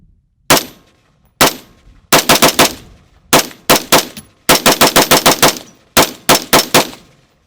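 Unsuppressed rifle gunfire on a freezing cold outdoor range: loud, sharp cracks, first single shots then rapid strings of several quick shots, close to the listener with short pauses between.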